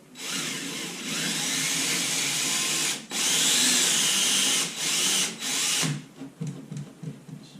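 A power drill bores through plasterboard to put up a shelf, loud and close, running steadily in a few bursts with brief stops before winding down into quieter handling noises. No one talks.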